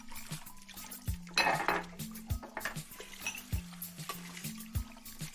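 Cartoon sound effect of dishes and cutlery being washed: repeated clinks and clatters of plates and silverware with splashing water, set over a light musical tone.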